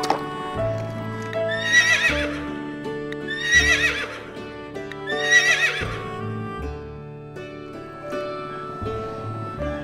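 Orange-and-black horse gives three loud, shrill whinnies at even intervals over a background of clip-clopping hooves and low snorts, close and clear.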